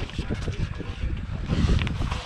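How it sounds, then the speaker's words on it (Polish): Gusty wind buffets the microphone with a steady low rumble and rough, rustling surges. "wiatr jebany, teraz zaczął wiać"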